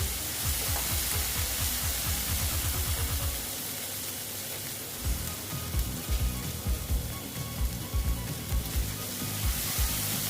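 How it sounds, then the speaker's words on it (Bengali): Chili powder masala sautéing in a pan for Bengali-style pabda fish curry, a steady bright sizzle with rhythmic stirring scrapes throughout, loud and close with no voices. "লঙ্কার গুঁড়োটা না খুব ভালো কালারটা খুব সুন্দর হয় দেখো ভালো মতো কষিয়ে নিচ্ছি"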